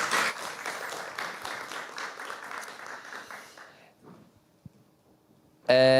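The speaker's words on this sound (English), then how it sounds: "we can applaud" A conference audience claps in warm, dense applause for about four seconds before it thins out and fades, with a brief sound of voices at the very end.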